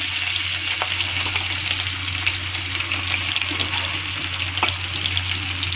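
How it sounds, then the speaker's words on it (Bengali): Green chillies and a little onion fry in hot oil with a constant close sizzle and crackle, with occasional light stirring clicks over a low steady hum. "দেখো 2টো কাঁচা লঙ্কা দিয়ে দিচ্ছি, সামান্য একটু পেঁয়াজ দিয়ে দিচ্ছি।"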